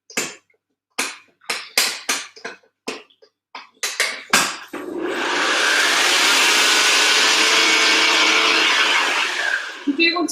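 A kitchen mixer blends cheesecake batter until smooth, a loud steady whir that runs unbroken for several seconds after a stretch of short clattering and knocking sounds.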